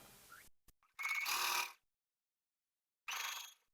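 A sewing machine runs a quarter-inch seam on a quilted English garden table runner in two short whirring bursts, the first longer, each stopping abruptly into silence.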